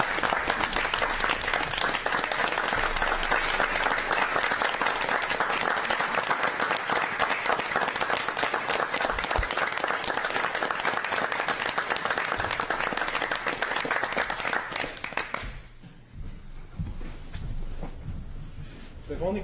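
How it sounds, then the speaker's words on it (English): A city council meeting crowd gives a long round of applause, dense and steady for about fifteen seconds before tapering off into scattered claps and room noise. "So can the folks here join me in a round of applause for Officer Jones?"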